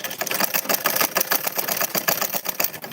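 A sewing machine runs steadily with a quick, even, clattering stitch rhythm, close and fairly loud, with no voices over it.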